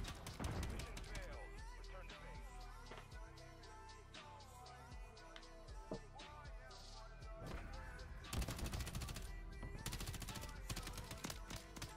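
Call of Duty: Modern Warfare 3 gunfire crackles in dense automatic bursts with scattered single shots over the full stretch, heaviest at the start and again near the end.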